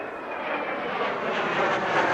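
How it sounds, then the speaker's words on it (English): Aircraft in the video game Ace Combat 04 fly overhead with a loud, continuous engine roar that swells slightly as it passes. "Allied aircraft soared overhead."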